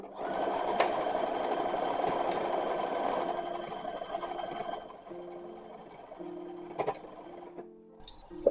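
A sewing machine stitches the side seams, sleeves and skirt of a copied 1920s–1930s dress, a steady rapid whirring run that slows and trails off into a few intermittent stitches and clicks near the end.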